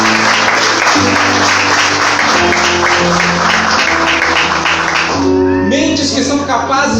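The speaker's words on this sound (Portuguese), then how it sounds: "Dá um forte aplauso para Jesus." Congregation at a church service applauding loudly and steadily, a dense wash of clapping with sustained music tones underneath and a voice coming in near the end.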